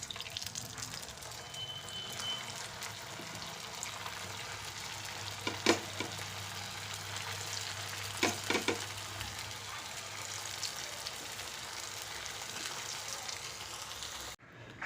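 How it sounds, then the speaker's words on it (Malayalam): Crispy breakfast snack pieces deep-frying in hot oil give a steady, moderate sizzle, with a few brief clinks and clatters partway through before the sound cuts off abruptly at the end. "ബാക്കിയുള്ളതും കൂടി നമുക്ക് അതുപോലെ എണ്ണയിലേക്ക് ഇട്ട് കൊടുക്കാം"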